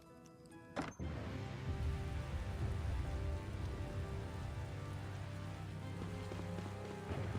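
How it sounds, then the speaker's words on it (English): Rain in the Tales of Xillia video game patters steadily and fairly quietly after a brief clunk, a continuous wash of falling drops with a faint musical tone beneath. "It's starting to rain."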